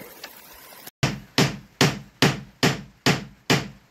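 Someone outdoors by a shed hammers a large nail with a hammer, giving eight sharp, evenly spaced metallic blows after a brief quiet pause, each ringing out and decaying before the next.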